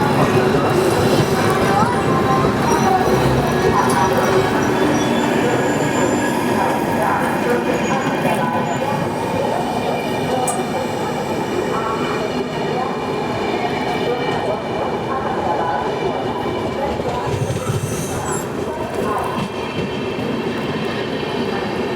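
The Mumbai–Ahmedabad Double Decker Express, train 12931, at Anand Junction makes a loud, continuous rumble with wheel clatter and rail noise throughout, with talk mixed in.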